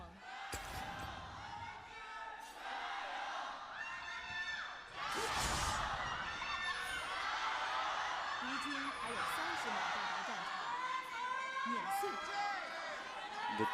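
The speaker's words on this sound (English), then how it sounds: "The cheering and chanting gets louder with every passing game." Esports fans cheering and chanting at an LPL third-place match between Rogue Warriors and Invictus Gaming, a dense, loud crowd roar swelling halfway through and staying high, with talk mixed in.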